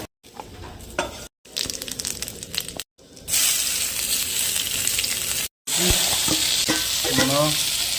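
Eggplant gravy frying and sizzling in a pan for an Odia dish, a steady hiss broken by short gaps, with clinks of a utensil stirring near the end.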